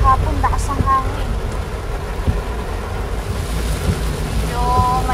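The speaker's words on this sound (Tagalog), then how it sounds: "Medyo malakas na kabsat yung ulan ah." Heavy rain during Typhoon Goring pours in a dense, steady hiss over a low rumble, with vehicle or wind noise blended in and a few faint voices in the background.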